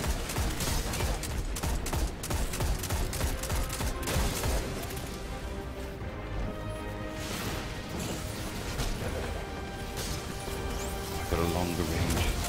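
Dense, continuous gunfire and crashing explosions from the Graviton Forfeit gun in the Destiny 2 video game, with loud overlapping bursts filling the whole stretch and voices partly audible beneath.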